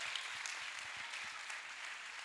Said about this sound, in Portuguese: Aplauda Jesus se você é crente.